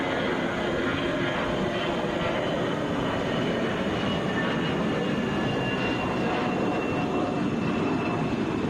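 A Delta Airbus A320 airliner at Atlanta gives a loud, continuous jet roar with faint tonal whine layered above, sustained without break and free of speech.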